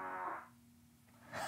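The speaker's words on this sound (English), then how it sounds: "It actually makes the fart on the screen." Fart sound effect played by a Tesla's emissions testing novelty feature: two faint, buzzy, drawn-out tones, one at the start and another at the end, separated by a quiet gap.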